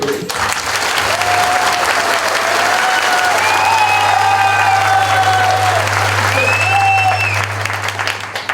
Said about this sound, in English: Just give a nice clap, please.